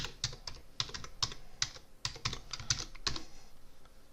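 Someone types a password on a computer keyboard at a workstation, a quick irregular run of crisp, close key clicks with brief pauses, heard on its own without talk.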